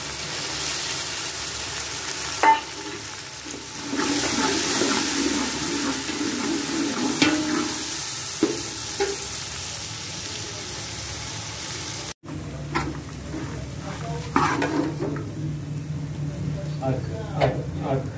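Finely chopped tomatoes go into a frying pan after green chillies and are stirred, giving soft sizzling and scraping of a spoon against the pan with occasional clinks, under a person talking throughout.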